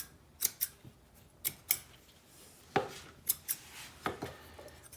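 Scissors snip through faux wood blind slats and horizontal cords, about a dozen sharp, close crisp cuts in uneven clusters with quiet pauses between them.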